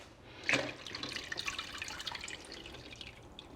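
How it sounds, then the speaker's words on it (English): Cold water pours from a tap into a pot of eggs in a steady splashing stream, close and moderately quiet, with a sharper splash at the start. "now I'll just place the water, cold water in"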